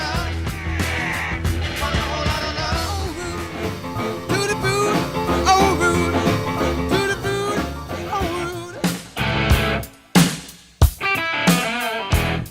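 Dense, driving rock and roll music with distorted, full-band energy plays steadily, then breaks into choppy stops and bursts near the end.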